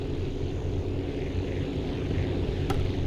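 Constant droning of a plane engine at full throttle in the Aviassembly video game, steady and fairly loud throughout with a short click near the end.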